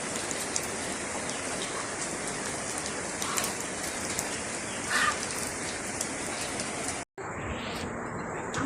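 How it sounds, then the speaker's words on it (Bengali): Steady rain pours down without pause, a dense hiss of drops striking surfaces; near the end it drops away for a moment, then returns. "সকাল থেকে বৃষ্টি নামতেছে আজকে"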